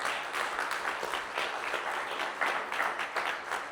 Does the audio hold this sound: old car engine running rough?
no